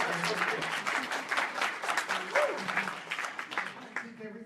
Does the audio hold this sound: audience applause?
yes